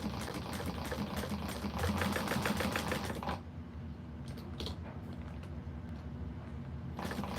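Sewing machine stitching around the corner of a quilted bag, a steady close mechanical chatter for about three seconds before dropping to a quieter hum and faint clicks.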